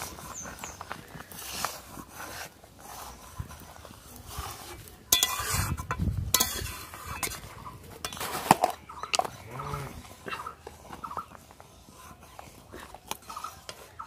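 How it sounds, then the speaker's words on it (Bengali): Fish roe chutney is stirred in a pan with a spoon, making quiet, intermittent scraping and clinking with a faint sizzle and a few louder knocks against the metal. "এই যে দেখুন ডিমটা দিয়ে সঙ্গে সঙ্গে নাড়তে হবে, না হলে এটা বসে যাবে শক্ত হয়ে।"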